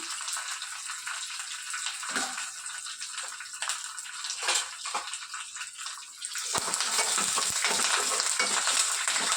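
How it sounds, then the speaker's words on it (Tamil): Red chillies and curry leaves fry in hot oil with a steady crackling sizzle, broken by a few stirring clatters, then growing louder and denser near the end; no one speaks. "2 சிவப்பு மிளகாய், கொஞ்சம் கருவேப்பிலை இலை போட்டு நல்லா பொரிய விடுறோம்"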